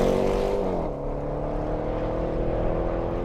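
A supercharged Range Rover Sport SVR engine pulls hard with a steady, loud drone, its pitch rising and then settling into a sustained hum with no voices over it.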